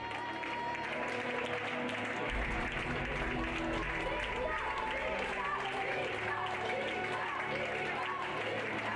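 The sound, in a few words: applause at award ceremony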